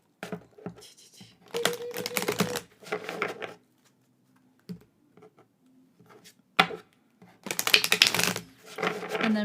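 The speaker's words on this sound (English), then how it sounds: "so I will do some shuffling" Oracle cards are shuffled in bursts, with crisp riffling and flicking clusters separated by short pauses and softer handling noises.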